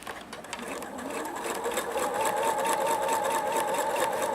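Pfaff Quilt Expression 4.2 sewing machine stitching a straight seam down the centre of fabric, a steady fast whirring hum that builds slightly and holds, close and clear.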